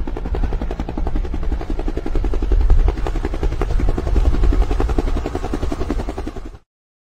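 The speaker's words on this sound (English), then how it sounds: "H as in helicopter" A video game helicopter's rotor thuds in a rapid, steady beat with an engine whine, loud and close, holding constant before stopping suddenly.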